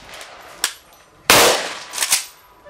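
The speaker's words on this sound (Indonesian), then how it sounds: "Untuk setiap prajurit diberikan 20 amunisi dengan target jarak tembak 100 meter menggunakan gaya tiarap dan duduk untuk senjata laras panjang jenis SS1." SS1 rifles fire at a military firing range with 100-meter targets, shooting from prone and sitting positions: several sharp, loud, separate reports ring out with echoing tails, including a close pair near the end.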